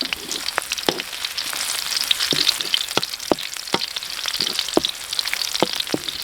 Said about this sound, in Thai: ใส่น้ำมันลงไปแล้วครับ มันร้อนนะครับใส่กระเทียมลงไปเจียวให้หอมครับผม